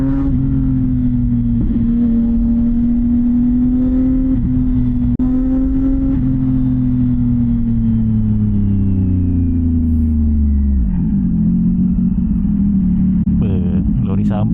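A CFMOTO 675NK SR motorcycle fitted with a titanium full-system exhaust drones loudly and steadily, its engine note rising and falling with throttle changes before dropping in pitch near the end. Faint talk is mixed underneath.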